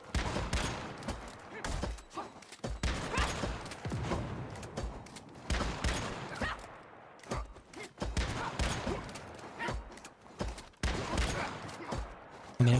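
A shotgun blasts repeatedly in the survival shooter Once Human, sharp close shots mixed with rapid bursts of other gunfire in an irregular, busy rhythm, with a voice talking over parts of the fight.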